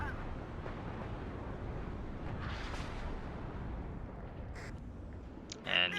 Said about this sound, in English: You can see the artillery coming in a little late for this infantry.